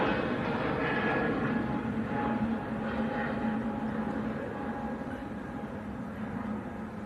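An EasyJet airliner bound for Hurghada, Egypt, at Manchester Airport under low cloud, heard as a steady, broad jet engine rumble that stays even throughout.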